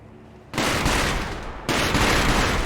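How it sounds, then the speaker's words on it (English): Gunfire from sentry enemies in the video game Sekiro: Shadows Die Twice, two sudden loud bursts of dense, crackling shots, each holding as a sustained roar with no talking. "Even getting closer requires sprinting across a bridge as all of them fire at you"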